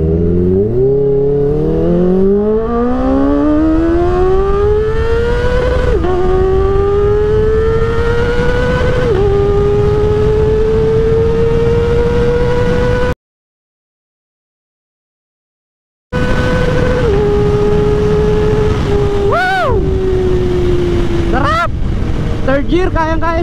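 Kawasaki ZX-4RR motorcycle with a changed front sprocket, revving loud and close as it accelerates hard through first, second and third gear, rising engine pitch dropping at each shift, a brief dropout midway then more high revving.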